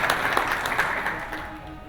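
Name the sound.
audience applause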